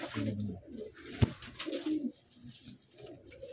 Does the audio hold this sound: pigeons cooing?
yes